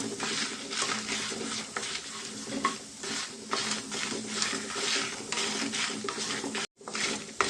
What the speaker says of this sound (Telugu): సింగిలో పెట్టుకొని మనం ఫ్రై చేసుకున్నామండి ధనియాలు జీలకర్ర ఇప్పుడు ఎండుమిర్చి మనకు త్వరగానే ఫ్రై అయిపోతుంది